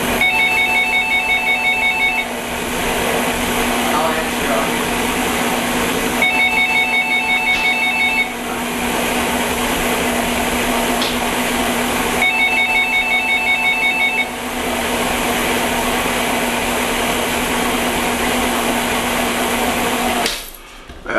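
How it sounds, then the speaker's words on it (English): A telephone rings in a home kitchen during cookie baking, repeating in three bursts of electronic trilling about six seconds apart over a steady mechanical hum, like a running mixer. "Sorry, I couldn't shut the phone off today."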